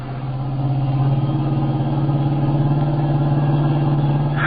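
A car engine drones steadily and loudly during a chase scene in an old-time radio drama, its pitch holding a constant hum with a slight swell as it pushes to accelerate, with no voices over it.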